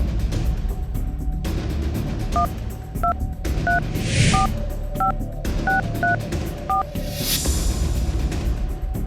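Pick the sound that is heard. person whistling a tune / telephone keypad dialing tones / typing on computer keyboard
telephone keypad dialing tones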